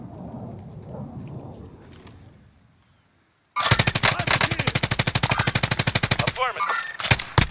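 Call of Duty: Modern Warfare gameplay with a long, loud rapid burst of automatic gunfire at a steady rhythm, then a few more shots, after a quieter stretch of low rumble at the start.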